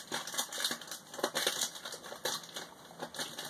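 Pokémon booster packs from the Ancient Origins and Breakthrough sets are shuffled by hand, their foil wrappers crinkling and rustling in quick, continuous bursts close up, with no talking.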